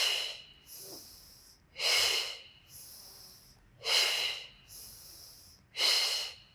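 Strong nasal exhalations during a core workout, four loud forceful breaths out at a steady interval of roughly two seconds, with softer inhales in between, close and alone.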